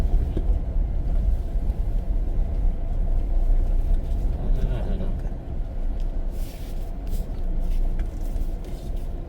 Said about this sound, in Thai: มีรถมา